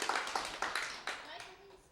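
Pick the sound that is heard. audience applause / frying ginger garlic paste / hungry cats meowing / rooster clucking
audience applause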